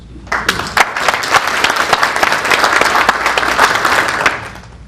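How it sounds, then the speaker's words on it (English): A forum audience gives a full round of applause, dense clapping swelling quickly, holding steady for several seconds, then tapering off near the end. "So a big round of applause for all of you."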